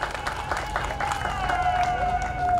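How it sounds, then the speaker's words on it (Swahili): Crowd applause at an official ceremony with President Magufuli, broad steady clapping across the clip, mixed with crowd noise and a sustained tone in the background. "Tumpigie makofi mengi sana Profesa Mbarawa."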